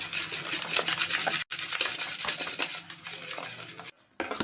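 A utensil stirs a thick white bleach mixture in a bowl, making a close, continuous scraping and swishing sound. It breaks off briefly twice, and there is no talking.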